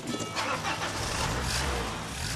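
A car engine revs steadily and loudly as the clutch is lifted to pull away under strain, a dense continuous roar without pause and no voices.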